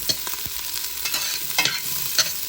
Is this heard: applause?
no